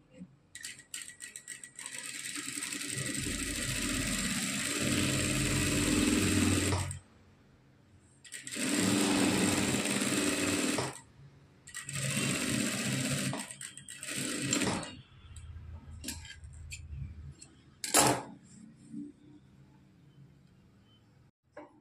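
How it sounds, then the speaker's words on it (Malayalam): Sewing machine stitching a dori rope strap, running in three long steady bursts with short pauses between, then a couple of brief shorter runs and a sharp click near the end, close and fairly loud. "ശേഷം ഒരു സ്റ്റിച്ചും കൂടി ഇതുപോലെ ഇട്ട് കൊടുക്കണം"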